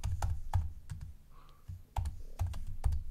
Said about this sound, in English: let me just retype it. I want to type